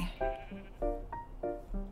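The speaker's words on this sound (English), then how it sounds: "Another sheep." A sheep in the Minecraft video game bleats three times in quick succession, short nasal calls at fairly low level with no talking over them.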